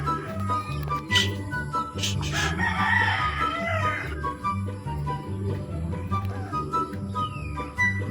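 A rooster crows once, loud and drawn-out, over a steady low engine-like hum with scattered clucking nearby.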